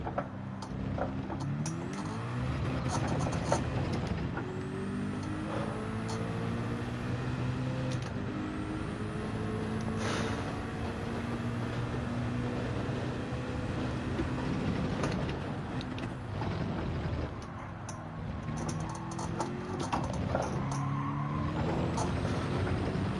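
A Nissan race car in Gran Turismo 7 has its tyres warmed up on a Le Mans track, with steady engine drone and rising, falling whines, repeated tyre squeal and brief shifts, loud and continuous without speech.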